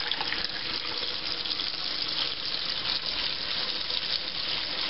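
Water gushes out of a Casita camper's water heater lines during a purge, a loud steady rushing spray like a fully open tap, close and unbroken, no talk.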